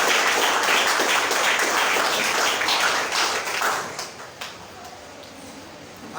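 Church congregation applauding during a worship service, a dense, loud wash of clapping that fills the space for about four seconds before thinning out and trailing off.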